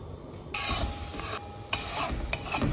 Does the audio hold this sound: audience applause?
no